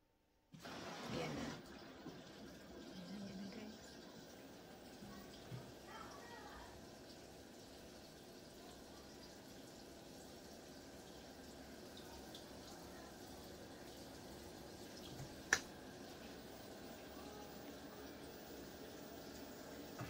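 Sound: water running and filling

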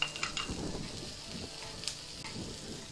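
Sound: finely chopped garlic and shallot frying in pan

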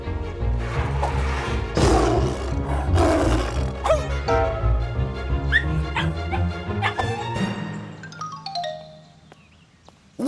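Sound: cartoon lion roaring

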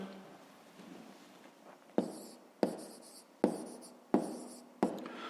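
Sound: writing down numbers for a math exercise

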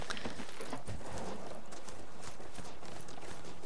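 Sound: horse hooves clip-clopping in video game Horizon Forbidden West

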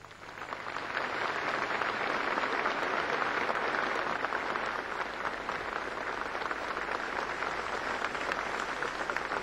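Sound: applause

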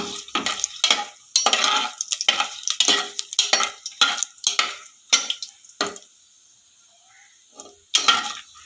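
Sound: stirring whole spices for chicken curry in a pan

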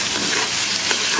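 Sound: tomato, onion and green chili being sautéed in a pan

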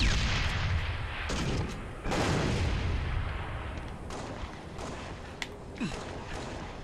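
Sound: grenade explosion in Halo Reach video game

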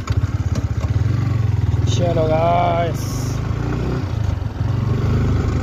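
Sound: motorcycle engine running as the ride starts

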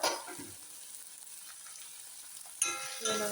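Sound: stir-frying agathi leaves and flowers with turmeric in a pan

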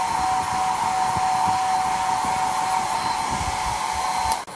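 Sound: hair dryer blowing

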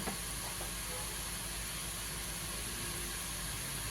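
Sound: murukulu dough frying in hot oil

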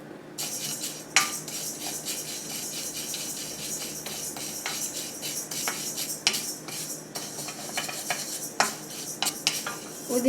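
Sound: urad dal dry roasting and stirring in pan

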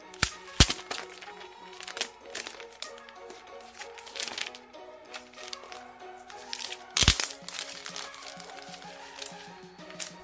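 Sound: opening Pixel C keyboard packaging box

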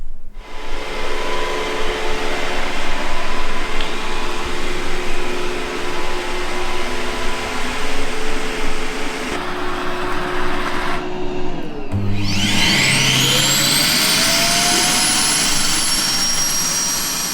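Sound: robot vacuum cleaner running and returning to dock

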